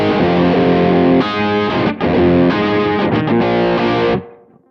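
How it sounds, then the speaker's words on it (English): A Les Paul electric guitar through a Trem-o-verb amp, driven with distortion and a touch of spring reverb, plays sustained, ringing chords close and loud, then cuts off sharply near the end and leaves a brief reverb tail. "So you can hear I've got like a little bit of spring reverb just for to add depth in the room."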